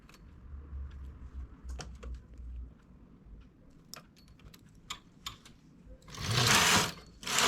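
A knitting machine works a two-needle edge, giving close clicking and ticking of needles and a low carriage rumble, then a loud sliding whoosh as the carriage sweeps across near the end.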